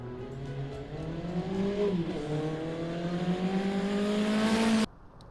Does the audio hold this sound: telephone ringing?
no